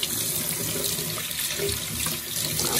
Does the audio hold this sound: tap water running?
yes